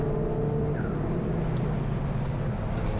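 Race cars, including a Lotus Elise Series 2, run at Brands Hatch GP in a Trackday Trophy race, giving a steady, dense engine roar with a brief rising pass partway through.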